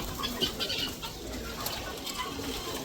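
Caged fancy variety pigeons with crested heads and showy feathers, on a farm, coo softly and intermittently in a faint, brief stretch without speech.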